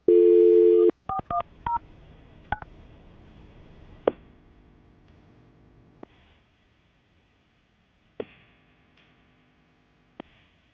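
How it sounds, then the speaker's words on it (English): A telephone dial tone, then a quick series of touch-tone beeps as a number is dialed, followed by a few sharp clicks and near silence, no voices. "I'm going to dial the phone number, see if we can get her on the phone"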